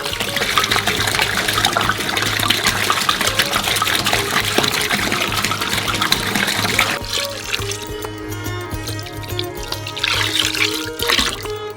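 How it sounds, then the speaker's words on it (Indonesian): Water being poured into a cocoa ice cream mixture for a giant homemade Snickers ice cream, a steady splashing trickle for about seven seconds that then gives way to quieter dribbling and sloshing. "Saat semuanya sudah tercampur rata, tuangkan air yang tersisa."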